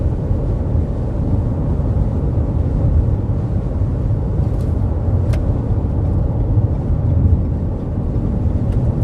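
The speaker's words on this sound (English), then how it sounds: "you do hear quite a lot of road noise out there on the highway in this car." Steady, loud road noise inside a car driving on a Florida highway near Miami, a continuous low tire-and-engine rumble with wind roar that holds level throughout, no talking.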